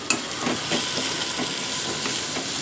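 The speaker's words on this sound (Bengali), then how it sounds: "তো কালো জিরে ফোড়ন দিয়ে দিলাম, শুকনো লঙ্কাটাও দিয়ে দিলাম, একটু গরম হতে থাক।" Black cumin seeds and dried red chillies fry in hot oil, giving a steady, close, hissing sizzle with faint pops and crackles running through it, and no voices.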